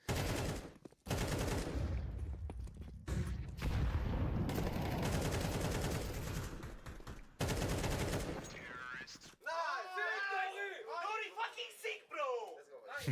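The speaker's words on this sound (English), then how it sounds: "These Tech9 shots through the smoke." Tech-9 pistol shots in Counter-Strike during a FaZe vs MOUZ match at PGL Cluj-Napoca, fired through smoke: rapid bursts of gunfire over loud, continuous commentary, fading to quieter game sounds at the end.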